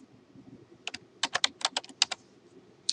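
Quick bursts of typing on a computer keyboard, a dozen or so crisp close key clicks in an uneven rhythm over a quiet background.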